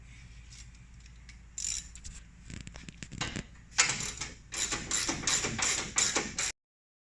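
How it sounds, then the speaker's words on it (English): A 9/16 ratchet tightens bolts on a winch fairlead mount during a hidden winch kit install on a 2013-2018 RAM 1500, giving quiet clicking and shuffling mechanical sounds that build into louder bursts of ratcheting near the end. "we're also going to get over here with our 9/16 ratchet and tighten all these up"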